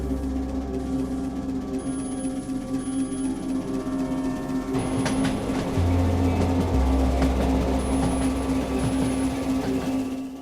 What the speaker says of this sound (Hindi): 12 बजने वाले हैं, भूतिया ट्रेन आने का समय हो गया है